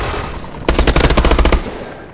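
A rapid burst of automatic weapon fire in the shooter game Call of Duty: Advanced Warfare, about a dozen loud, evenly spaced shots in under a second over steady in-game background noise.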